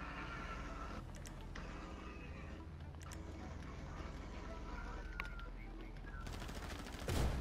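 Gunfire rattles in the GTA video game, repeated shots in a steady burst of reports with vehicle noise, closing on a louder blast near the end, over a busy game soundtrack.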